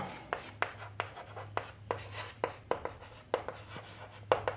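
Pen strokes writing out polynomial maths working, a steady run of short scratchy strokes and taps close by under a low electrical hum, with no talking.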